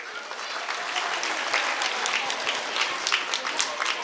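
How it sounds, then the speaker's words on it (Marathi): Audience applause for Patil sir at a prize distribution ceremony, a dense steady wash of many hands clapping, fairly loud and sustained for the whole stretch with no talking over it. "एकदा पाटील सरांसाठी टाळ्या होऊ द्या बरं"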